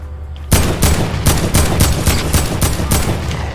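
A heavy assault rifle fires in a video game, a loud close burst of roughly ten evenly spaced shots in steady automatic rhythm that starts abruptly and runs to the end.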